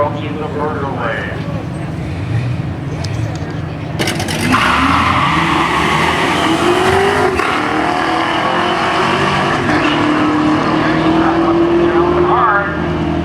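V8 muscle cars, including a Camaro and a Fox-body Mustang, roar down a drag strip, engines revving loudly and building to a sustained wide-open blast, while an announcer talks over the racing.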